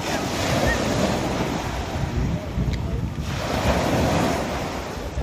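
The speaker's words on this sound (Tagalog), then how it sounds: "original sound din hampas sa balud sa baybayon" Waves roll and crash on a beach shore at sunset, a loud, continuous surf roar with steady wind buffeting the microphone and a slight surge in the middle.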